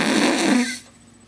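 A short, loud, flapping fart-like blast, most likely made with the mouth in imitation of a fart, lasts under a second and then fades into quiet.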